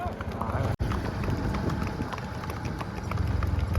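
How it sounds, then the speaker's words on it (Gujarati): A horse's hooves clip-clop on a village path, a quick steady rhythm heard close up under wind noise and a voice. "ઘોડો આવે છે મિત્રો"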